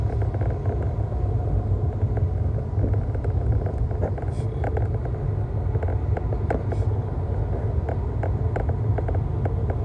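A car drives through Houston traffic, heard from inside as a continuous low engine and road rumble with steady wind noise and no talking.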